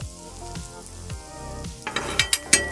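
Quesadilla filling sizzling steadily in a hot pan while being stirred, with spatula scrapes and a few sharp clinks of utensil on pan toward the end.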